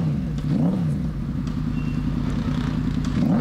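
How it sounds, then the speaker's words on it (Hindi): A Ducati motorcycle's exhaust burbles steadily at idle with a deep, throbbing rumble and a slight pulsing rise in pitch, loud and close with no talk over it. "कितनी बढ़िया आवाज़ है इसके एग्जॉस की"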